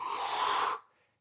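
A deep inhaling breath taken during a dynamic stretching exercise, a steady, close airy rush lasting under a second before cutting off into near silence.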